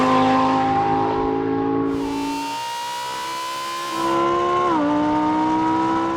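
A Lamborghini Huracan Performante in a drag race against an SUV: a loud, sustained engine note that climbs in pitch, dips briefly and then rises again with a whine, heard close and continuous.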